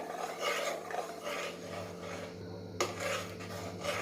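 A spoon stirring thickening mango custard pudding in a pan on the stove, giving steady scraping and clinking strokes against the metal that repeat throughout at close range, with no talk.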